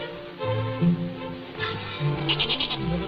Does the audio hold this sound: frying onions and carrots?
no